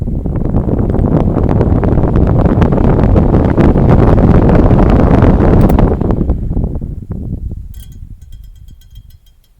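A Mainstays 9-inch fan running out of balance loudly whooshes and rumbles up close, then spins down and fades toward silence over its last few seconds.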